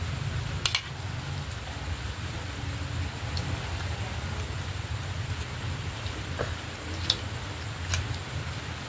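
Steady rain falling, a soft continuous hiss with a few sharp clinks and drips standing out, fairly quiet and steady throughout with no talking.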